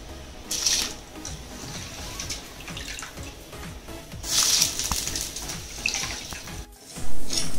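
Soaked basmati rice is tipped into a pot of boiling water for Hyderabadi chicken dum biryani, giving close splashing and bubbling water sounds with a couple of brief pouring bursts.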